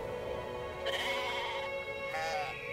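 A sheep in the game Brothers: A Tale of Two Sons gives two wavering bleats about a second and a half apart over a steady ambient music bed, moderately close and fairly quiet.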